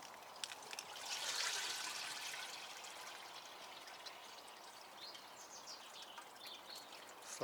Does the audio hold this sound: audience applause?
no